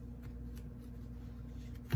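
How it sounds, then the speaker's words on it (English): A deck of cards is shuffled once, a soft rustle in the final moment near the end after quiet room tone, close and fairly faint. "I'll shuffle once more on screen."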